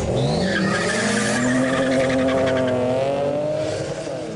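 Drag racing cars squeal their tires in a long, loud skid, with the screech wavering in pitch over roaring engines throughout and fading slightly at the end.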